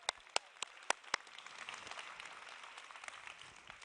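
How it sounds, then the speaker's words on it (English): Faint applause from an audience at an HR trends talk begins with a few sharp, separate claps, then swells into a soft, continuous patter of many hands. "join me in a round of applause for the organization"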